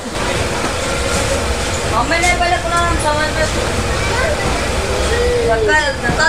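The Radhikapur–Kolkata Express (13146) pulls out of the station with a loud, continuous rolling rumble and faint metallic squeals, while voices murmur nearby.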